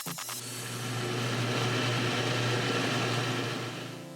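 A blender grinds sweet potato chunks with water steadily at close range, a loud continuous motor whir with a low hum that ramps up at the start and eases off at the end.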